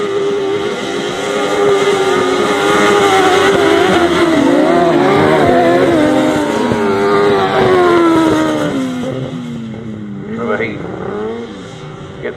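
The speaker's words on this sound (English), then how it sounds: "Getting the throttle on early out of that corner and making the dirt fly." Grasstrack racing bikes accelerate hard out of a dirt corner, engines rising and falling in pitch as several machines pass close by, with a commentator talking over the roar.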